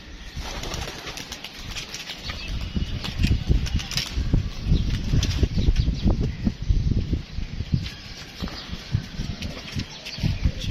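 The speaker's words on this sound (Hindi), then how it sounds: "ये कबूतर उड़ा दिए जी दोस्तों" A flock of trained pigeons released from a rooftop bursts into flight, with dense, rapid wing flaps and rustling close by, surging and fading over several seconds.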